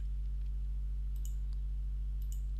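Computer mouse clicks while formatting a chart in Excel, two pairs of small sharp clicks over a steady low electrical hum, close and faint with no talk.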